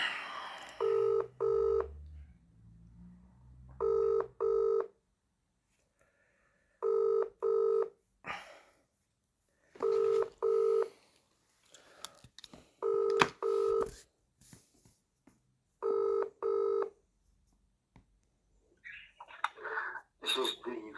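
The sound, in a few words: telephone dialing and ringing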